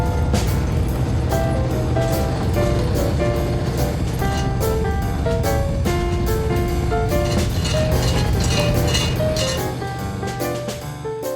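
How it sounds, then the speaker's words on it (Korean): Squid jigging machines running on a fishing boat at sea, a loud continuous mechanical hum with repeated clicking and tonal ringing, steady throughout and fading slightly at the end. "조상기 돌아가는 소리가 파도를 뚫고 울려 퍼진다."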